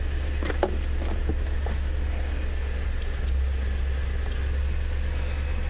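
An Audi D2 S8 sits with its wheels turning, giving a steady low drivetrain hum and rumble, with a few faint clicks and ticks over it and no voices.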